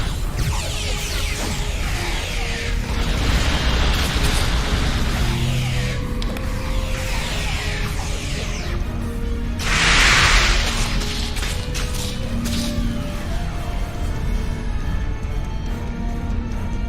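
Combat in Star Trek Online with energy weapon fire, bursts and explosions, a busy layered mix of shots and blasts under a musical score, with one loud explosive burst standing out midway.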